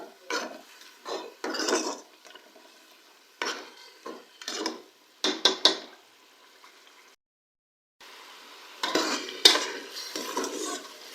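A spoon scrapes and stirs beaten yogurt frying in a pot for beef aloo gosht, giving intermittent close scraping strokes and clinks over a soft sizzle, with a brief quiet pause midway and no talking.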